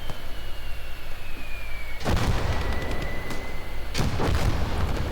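Mortar fire in the WWII strategy game Call to Arms - Gates of Hell: two sharp, loud blasts about two seconds apart, each with a booming low rumble, over continuous battlefield noise and a faint whine.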